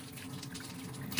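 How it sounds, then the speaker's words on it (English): Water is poured over dolmas held down by a plate in a pot, with lemon juice and lemon wedges, giving a brief, soft, steady gush and splash heard up close and faint. "Basically covering the plate with water."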